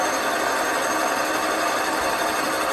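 A Bell skiver leather skiving machine runs steadily, a dense, even mechanical whir with a fine buzzing texture throughout the short stretch, close and uninterrupted with no voices.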